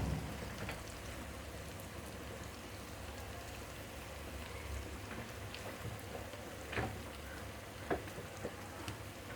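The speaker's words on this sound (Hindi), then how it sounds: "देखें हमारी गोभी उबल रही है।" Steady bubbling and hissing of cauliflower at a rolling boil in a pot, with occasional louder pops and spatters, continuous and close, no voices.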